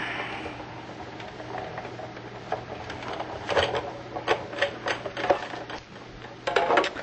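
Big Shot die-cutting machine cranked with a top cutting plate through its rollers, giving a close, continuous grinding and ratcheting whir with rhythmic clicks that grows busier toward the end.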